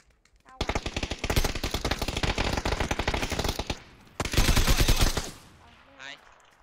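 Rapid automatic gunfire in a video game, two long bursts of dense, loud rattling shots separated by a brief pause, followed by a faint trailing sound.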